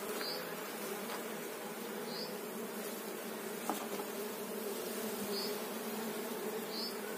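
Honeybees buzz steadily in an artificial swarm hive being built in July, a dense continuous hum with no one speaking over it.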